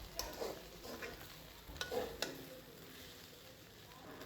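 Prawn fried rice stirred in a pan, with a faint low sizzle under a few distinct scrapes and clinks of the spatula near the start, then a quieter hiss.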